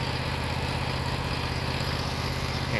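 A lawn mower engine runs steadily while cutting grass in South Florida, a constant mid-level drone with no breaks and no speech.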